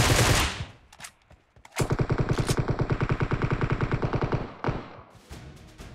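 Rapid automatic gunfire sprayed into the air in the battle-royale game PUBG Mobile, a loud regular burst of about two and a half seconds with a shorter burst after it, all heard alone with no talk.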